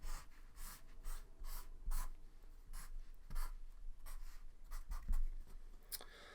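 A pen drawing a five-membered ring structure during a chemistry lesson, heard as a quiet, close series of short scratchy strokes in quick, irregular succession.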